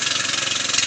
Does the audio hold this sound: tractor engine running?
yes